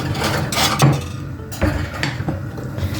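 Sliced avocado pieces are set down on a small plate, giving a few soft clinks and knocks of utensil against dish, close and fairly loud with no talking.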